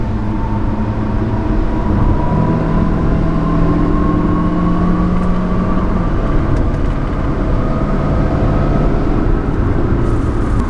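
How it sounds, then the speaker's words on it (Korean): A SsangYong Tivoli accelerating on a highway at around 90 km/h, a loud continuous drone of engine and road noise with a slowly rising engine tone heard from inside the cabin. "한번 가속을 해볼까요?"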